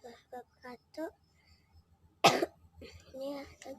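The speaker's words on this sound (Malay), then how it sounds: "Ni lagi aku batuk ini." A person with a cough lets out one loud, harsh cough, clearly standing out between stretches of nearby talking.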